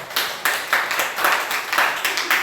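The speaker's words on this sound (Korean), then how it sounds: "썰렁하게 박수 쳤습니다" Scattered clapping from a church congregation in steady, rhythmic beats, sparse and a bit hollow, without voices on top.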